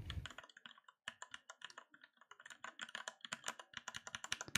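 Rapid typing on a mechanical keyboard with red switches, a dense run of quick clacking keystrokes with a brief pause near the start, close and fairly quiet.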